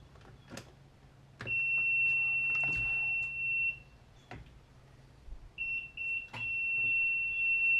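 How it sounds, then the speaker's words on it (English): A vehicle's high, steady electronic reversing beep sounds for a couple of seconds, stops, then resumes among scattered clicks and knocks. "it's just a backup constant beeping sound"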